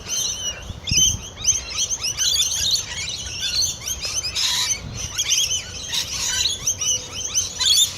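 Small birds chirp and tweet in a busy, continuous chorus close by, with overlapping high calls throughout and no voices.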